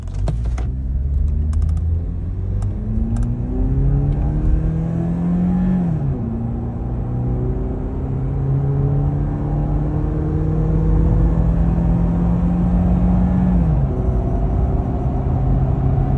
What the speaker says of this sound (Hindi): देखते हैं कि ये 0 to 100 कितने में जाती है और इसका इंजन और 4 लीटर में कितना फ़र्क है।